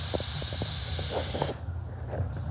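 A spray gun lays down a second coat of paint over a repaired panel, hissing loud and steady up close, then cutting off, leaving faint background noise with a few soft knocks.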